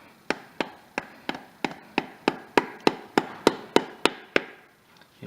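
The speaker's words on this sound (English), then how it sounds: "Instead of a rubber mallet, obviously I can use a hammer, but I don't want to give too much force." A hammer taps a transmission pump seal into place on a 987 Porsche Boxster: about fourteen sharp, evenly spaced metallic taps, close and moderately loud, with no talking.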